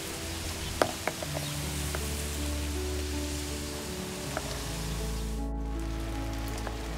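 Steady rain falls throughout, a soft, even hiss of water on surfaces with occasional sharper drop ticks, fairly faint and with no voices.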